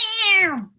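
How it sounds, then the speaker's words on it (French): A cat gives a single clear meow, starting high and sliding downward before trailing off, close and loud with no other sound around it. "le chat qui fait miaou"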